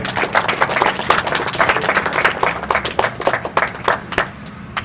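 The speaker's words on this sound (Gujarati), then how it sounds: "તો આપણે સૌ એમને સાથે મળીને તાળીઓના ગણગણાટથી વધાવી લઈએ." Audience at an honour ceremony in a village gym's patriotic programme applauds, a small group giving distinct, uneven claps at close range that thin out toward the end.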